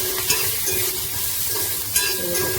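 Dried red chilies, curry leaves and cumin fry in hot oil in a kadai, giving a steady close sizzle broken by a few sharp scrapes of a stirring spoon against the pan.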